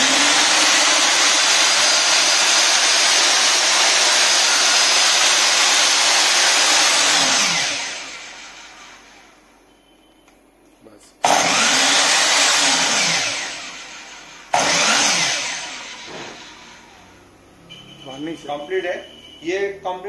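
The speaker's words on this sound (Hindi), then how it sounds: "चलिए अभी इसको हम चालू करते हैं देख अभी इसका आवाज देख लीजिएगा कैसे ये काम करता है" Yato YT-82173 255mm 1800W mitre saw with laser, its motor whining loud and steady, then spinning down, restarting twice in short high-pitched bursts that wind down, with someone talking near the end.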